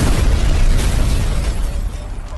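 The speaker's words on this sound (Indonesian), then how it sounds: "Terlihat Pak Dikopet akan meledak dan akhirnya si Kopet meninggoy dan terbakar bersama rumahnya." A loud, continuous rumbling explosion in a film as a character blows up and burns along with his house, a dense roaring blast that fills the clip and slowly fades.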